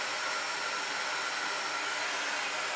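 A hair dryer blows steadily and close up to dry acrylic paint on a color-mixing journal cover, giving an unbroken airy whoosh with no voices.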